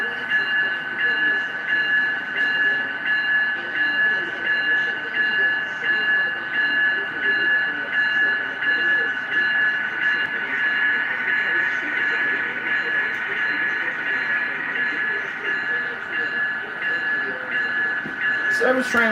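A model railroad service train runs steadily along an indoor layout, giving a continuous, even mechanical hum with bright sustained tones and no clear break for the whole stretch.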